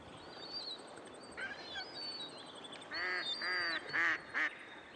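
Pacific black duck, an Australian dabbling duck, giving a run of nasal, harmonic quacks in the second half, clear and fairly close, after softer scattered calls over a steady outdoor background hiss.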